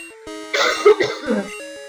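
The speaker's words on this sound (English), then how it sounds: "Sorry I keep coughing, like I hate being sick." A single short, harsh cough bursts out close up, followed by a brief rough throat sound, set against a quiet tonal background.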